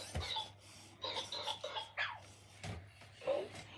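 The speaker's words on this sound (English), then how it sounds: "She coughed there because she was just yelling." A robotic pet, the Loona petbot, gives a few short, quiet coughs and raspy vocal bursts spaced across a few seconds, close to the microphone.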